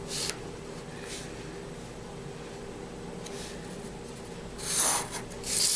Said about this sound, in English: you're going to make lines on the sides, trace lines, okay, and then you're going to trace that longer like this.